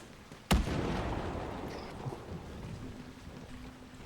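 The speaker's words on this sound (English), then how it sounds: "These thunder sounds." Thunder in the Dragon Age video game: a single sharp crack followed by a long rolling rumble that slowly fades, moderately loud with a faint tone lingering underneath.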